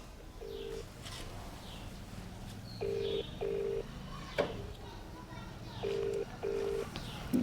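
A phone ringback tone sounds in paired beeps, repeating three times with pauses between, while muffled voices talk quietly in the background.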